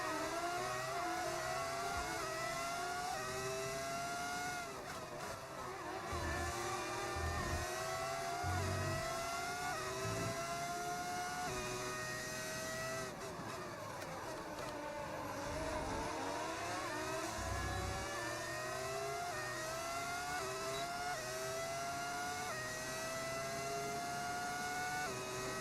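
Formula 1 car engine in the racing game F1 25, BMW team career at Imola, revving continuously for the whole stretch with rising and falling gear pitch, loud and steady with no talk over it.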